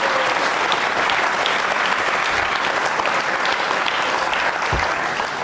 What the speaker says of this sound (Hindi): तालियां बजाइए एक बार फिर